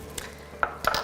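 A utensil stirs ingredients inside an Instant Pot for a keto recipe, giving a few sharp metallic scrapes and clinks against the pot between quiet pauses.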